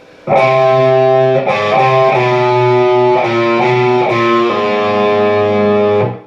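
Distorted electric guitar plays the riff of a song slowly, sustained, overlapping notes with a few clear note changes, loud and alone.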